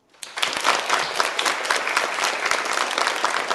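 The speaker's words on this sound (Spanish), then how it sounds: "Y vamos a recibirle con un aplauso." Classroom applause welcoming a new student, starting abruptly and continuing as brisk, close, lively clapping from a group of pupils.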